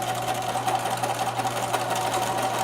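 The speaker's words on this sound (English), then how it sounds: "Zigzag the back seam so that it'll help to prevent it from fraying." A domestic sewing machine runs a steady zigzag stitch along the back seam of a small 18-inch doll skirt, a continuous close mechanical whir with fine rapid needle ticking and no pauses.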